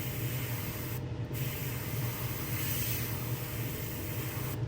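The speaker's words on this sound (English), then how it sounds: "Just spray it off on something." An airbrush sprays paint onto a gizzard shad swimbait lure with a continuous steady hiss, briefly cut once near the start before resuming.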